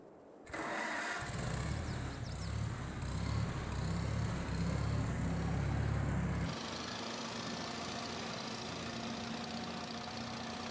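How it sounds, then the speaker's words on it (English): A small tractor engine in Farming Simulator starts and runs loud and steady with a low rumble, then drops to a quieter idle partway through; no one speaks. "I think I am gonna turn the vehicle sound down because it's loud in my headset."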